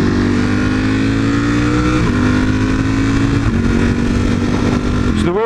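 A new motorcycle engine being broken in revs loudly and close, its pitch climbing and dropping through several gear shifts with no pauses.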